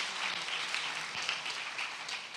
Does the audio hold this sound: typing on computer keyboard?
no